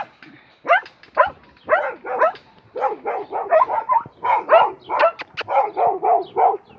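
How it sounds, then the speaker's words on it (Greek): Several dogs bark in quick, repeated bursts close by, the yaps coming faster and overlapping toward the end. "Τα πιο όμορφα σκυλάκια είναι αυτά και τα μαύρα"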